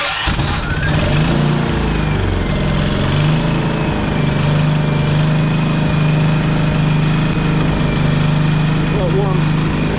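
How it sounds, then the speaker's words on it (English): A Champion generator, 11 years old and with a suspected carburetor issue, runs loud and close, its engine droning continuously while the pitch surges up and down in an uneven hunting rhythm. "Once it warms up, it's a more definitive up and down, up and down"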